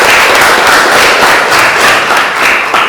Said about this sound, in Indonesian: tepuk tangan dulu untuk